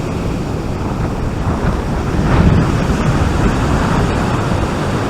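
Strong wind buffets the microphone on the Holderness coast at Hornsea South during cod fishing, a steady loud roar of wind mixed with surf, swelling in the middle, with no talk.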